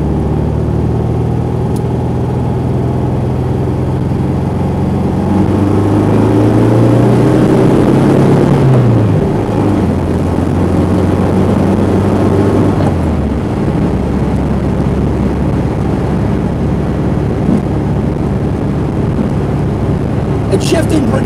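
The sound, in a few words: 1968 VW Karmann Ghia engine accelerating in second gear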